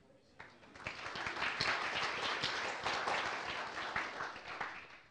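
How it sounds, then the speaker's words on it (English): Audience clapping for the organizers at a HelSec security event, a dense indoor applause that swells after a brief start and holds steady, loud and close. "let's give big applause to the HelSec organizers for having this event"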